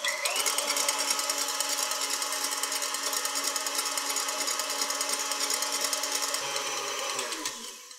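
An electric whisk beats egg whites with sugar for an Eton mess, a steady close motor whine that holds for several seconds before winding down.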